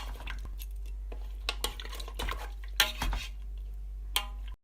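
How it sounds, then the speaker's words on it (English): Spoon clinking and scraping in a pot while rice is stirred with hot water and salt, a few sharp metallic knocks over a steady low hum, close and fairly quiet. "Just gonna give it a quick mix"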